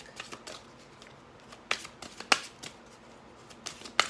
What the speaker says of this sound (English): Let me go ahead and get some cards off of the Angel Answers deck